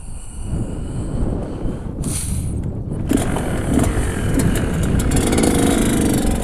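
A motorcycle with a freshly rebuilt top end, running in after a broken piston, rides along at an easy pace. A continuous engine drone blends with heavy wind buffeting, and a brief higher-pitched whoosh passes partway through.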